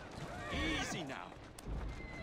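A horse whinnies in the video game Assassin's Creed Syndicate, set in 1865 London, a short near neigh rising and falling over about a second, with a voice talking around it.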